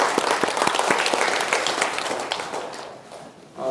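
A church audience claps steadily for a few seconds, dense and fairly close, then the applause fades out.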